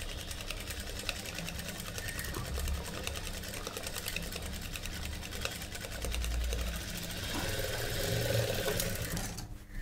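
A sewing machine runs steadily while stitching the neckline of a cutwork blouse, its fast continuous motor whir and needle patter holding close and even for the whole stretch, with no talk over it.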